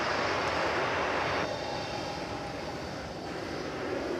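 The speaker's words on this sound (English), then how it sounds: "Here's a Spirit aircraft coming in from Los Angeles. Flight 1200, an Airbus A320" Spirit Airlines Airbus A320neo landing at DFW on arrival from Los Angeles, a steady loud broadband engine roar that eases slightly partway through and continues alone.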